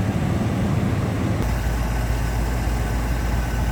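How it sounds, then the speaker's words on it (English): A stock 1979 Chevrolet Corvette with a 350 V8 idles steadily up close, a loud, deep, even rumble with a slight shift in tone partway through and no voices. "pretty much sounds like you'd expect a stock 79 Corvette to sound with 350 in it"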